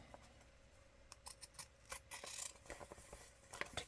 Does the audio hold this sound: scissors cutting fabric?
yes